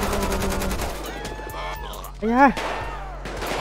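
Gunfire during a zombie outbreak in GTA 5: rapid repeated shots at the start, then a voice exclaims over scattered in-game noise.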